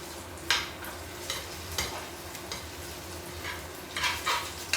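Belly pork fries in a pan, a low steady sizzle broken by sharp spatters and stirring scrapes at irregular intervals.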